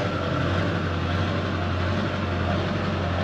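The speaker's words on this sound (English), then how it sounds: "Don't mind that truck idling all weird." A truck's diesel engine idles unevenly after a fuel filter change, a steady, low rumble, close by and fairly loud, with no pauses or revving.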